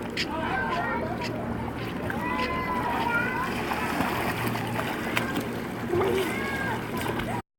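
Children splash and play tag in a backyard swimming pool, with steady water splashing and sloshing under excited children's voices and chatter throughout.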